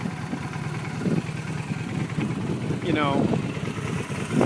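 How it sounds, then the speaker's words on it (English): A fuel-injected 2008 Honda Shadow Aero 750 motorcycle idles nearby with a steady whirring engine drone, moderately loud, while a voice briefly talks over it. "It sounds pretty whirry when you're standing next to it"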